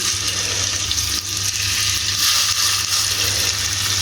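Kebabs cook in a greased pan, giving a loud, steady, close sizzle that hisses evenly throughout with only slight swells and no voices.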